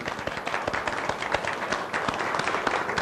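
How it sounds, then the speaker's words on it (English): An audience at a live show claps in sustained, dense applause for a handmade card, steady and even throughout with no voices over it. "Now I think that card deserves a round of applause."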